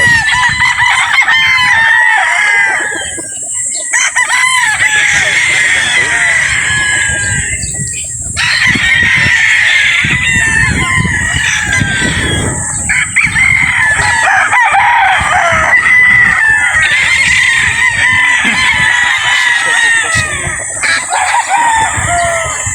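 Boston Black gamefowl roosters at a game farm crowing loudly and repeatedly, overlapping calls from several birds with clucking between, close and continuous.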